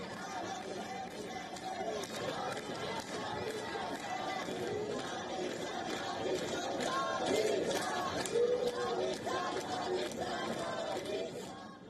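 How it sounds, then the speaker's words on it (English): Protesters chant slogans in Mashhad, Iran, as fires burn around them: a dense, loud crowd roars continuously, voices rising together and swelling toward the middle, with shouts mixed into the chatter. "The protesters were heard chanting, "Pahlavi will return" and "Long live the king.""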